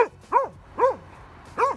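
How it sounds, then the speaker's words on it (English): Dogs out for a walk during an Edinburgh snowstorm bark in four sharp, close bursts with short pauses between them, each bark a rising and falling yelp. "Dogs have come out for a walk."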